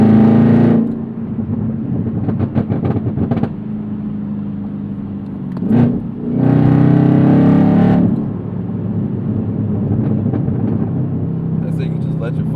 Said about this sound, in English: I say you just let your foot off the accelerator and it just pops